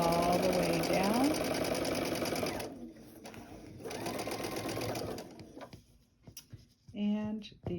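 A sewing machine stitches a quarter-inch seam on curved quilt piecing. It whirs quickly and evenly in close bursts that start, stop and restart, with a voice talking over part of it.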